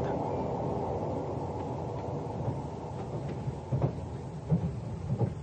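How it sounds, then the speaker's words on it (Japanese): A radio drama sound effect of a train running through a long tunnel: a muffled, continuous low rumble with scattered rail clacks and thumps growing more prominent toward the end. "そして列車は長いトンネルに入った。"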